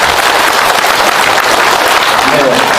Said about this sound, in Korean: 우리 봉사단을 위해서 힘찬 격려의 박수를